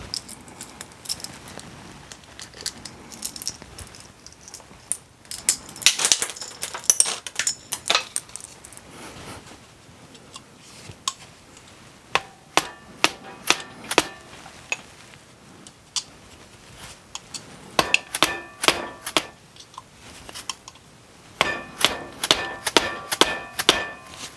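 Metallic taps, clinks and sharp knocks while a tapered-roller trailer bearing is cracked open and its rollers pried out, coming in scattered irregular bursts at close range, quiet stretches between, then denser ringing hits near the end.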